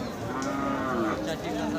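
A deshi bull mooing at a cattle market in Khochabari, Thakurgaon, a single drawn-out, low moo close by over a faint crowd murmur.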